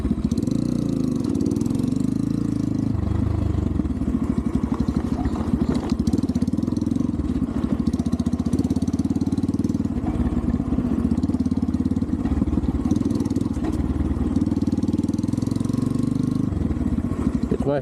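A Templar X 250 dirt bike rides the Gear Grinder trail at Cedro Tijeras, its engine loud and close throughout, revving and bogging in an uneven, rattling drone with no speech.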